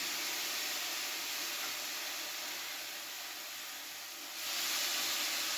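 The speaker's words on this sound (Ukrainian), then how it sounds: "І буду висипати в сковорідку. Сковорідка вже в мене нагрілася." Steady, quiet hissing sizzle of carrots frying in a preheated pan, with a brief dip and then a louder surge of sizzling near the end.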